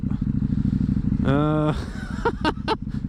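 A KTM 790 motorcycle rumbles steadily along a rough winter track, its low engine drone continuous beneath a rider's voice speaking over it.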